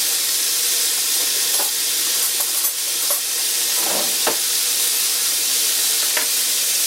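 Raw bacon sizzles and crackles steadily in a cast iron pan as its fat renders, a loud, continuous frying hiss with a few scattered pops and scrapes.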